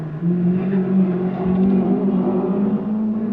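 A Ford Escort rally car tears through a stage of the 1983 Rally of the Lakes, its engine buzzing loudly and close with a rising, sustained rev for several seconds.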